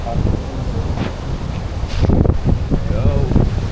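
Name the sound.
strong wind on Boracay beach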